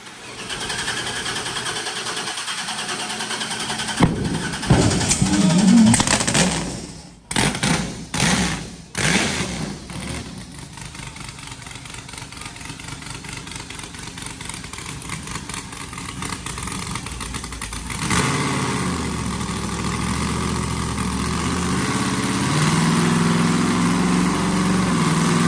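Modified car engine running and revving hard during a pull, loud and rough with surging bursts and choppy throttle blips before settling into a sustained high-revving roar, no talk over it.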